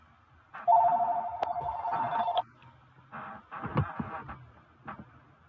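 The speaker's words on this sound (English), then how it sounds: "Phone call." A telephone rings in the video game West of Loathing: a loud, steady electronic ring lasting nearly two seconds, followed by softer game sounds and a few shorter tones.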